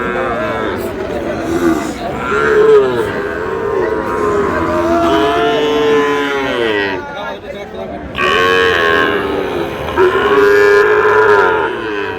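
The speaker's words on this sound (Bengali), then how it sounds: "শাহিওয়াল ষাঁড়" A Sahiwal bull at a busy cattle market gives long, loud, drawn-out moos, one after another, close by, with people talking in the background.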